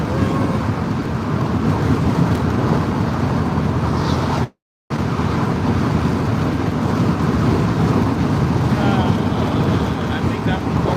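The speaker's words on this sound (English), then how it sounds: "That wind is strong." Strong wind buffeting a tiny home on wheels during a road trip, a loud continuous roar with a very brief dropout near the middle.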